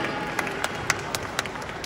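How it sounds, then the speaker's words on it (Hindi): Audience applause for a poet at an Urdu poetry show, heard as a steady wash of clapping with a few sharper claps standing out over about two seconds. "तशरीफ लाते हैं आपकी भरपूर तालियों में, हैप्पी सिंह परेशान साहब।"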